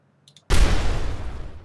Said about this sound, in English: this explosion sound goes on a lot longer than the actual explosion animation